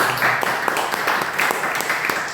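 Audience applause at a health and wellness business presentation in Pekanbaru: a steady patter of many hands clapping, fairly close and even, with some crowd voices mixed in.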